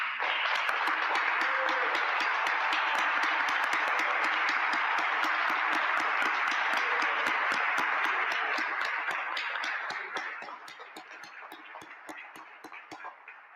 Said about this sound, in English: I would like to ask all of these young men to stand up and for us to applaud them.